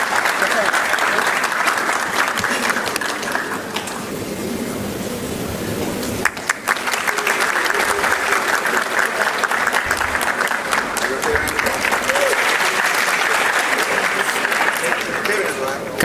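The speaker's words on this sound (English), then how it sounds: "A loud round of applause once again to our valedictorian." A sustained round of loud audience applause for a valedictorian at an African awards ceremony, steady clapping from a large crowd lasting throughout, with a brief dip midway before swelling again.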